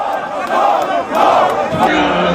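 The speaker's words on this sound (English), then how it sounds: "when the body appeared, the crowd went wild with emotion" A large crowd at Chief Abiola's funeral roaring and shouting with emotion, loud massed voices swelling in waves and continuing throughout.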